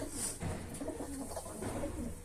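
Pigeons in a coop coo softly and steadily close by, low throaty calls overlapping for a couple of seconds with no talking.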